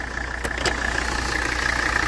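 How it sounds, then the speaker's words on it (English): A classic Mercedes engine idles with a steady, even rumble and a faint mechanical ticking on top, and two brief sharper clicks come early on. "Engine is running beautifully."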